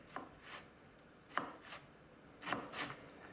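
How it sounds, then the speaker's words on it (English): Knife slicing through an onion on a cutting board, a series of crisp chopping strokes at an uneven pace, close and clear with no talking. "Slicing your knife through the onion."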